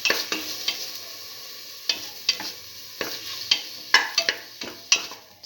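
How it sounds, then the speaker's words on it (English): A tomato and split pigeon pea mixture sautés in a pan, with irregular sharp scrapes and knocks of a spoon stirring against metal over a soft, steady sizzle, close and alone. "Keep on sauteing."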